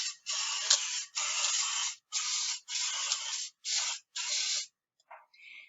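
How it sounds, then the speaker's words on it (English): Six short, steady bursts of cooking-oil spray hiss one after another into patty pans in muffin tins over a sink, followed by a couple of faint clicks, with no talking. "I'm just going to lightly spray each one with some oil."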